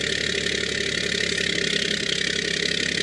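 A truck engine idles steadily at close range just after starting, before an exhaust brake test, a constant mid-pitched rumble with a hum, no voices and no change in speed.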